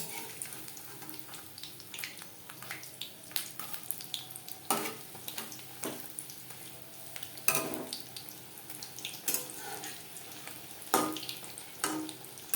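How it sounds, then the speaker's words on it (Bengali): Egg and flour pakoras frying in oil on a medium flame, a soft continuous sizzle broken by scattered sharp clatters and scraping as pieces are turned, fairly quiet with no voices. "উল্টে পাল্টে ক্রিস্পি করে ভেজে নেব"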